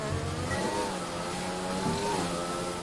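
Formula 1 car from the F1 2020 video game, Schumacher edition, its high-pitched engine whine rising and falling through gear shifts as it drives a track, loud and close throughout with no talk.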